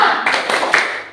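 A group claps hands together in a classroom, producing a short, loud burst of clapping that lasts about a second and then fades.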